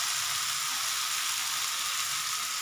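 Spice and potato masala sautés in oil with a steady, loud, close sizzling hiss that stays even throughout, with no one speaking.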